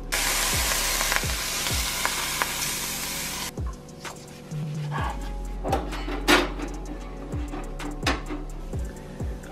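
Smoked tempeh sizzles steadily in a hot pan, with the frying hiss loud at first and then quieter, broken by occasional clinks and taps.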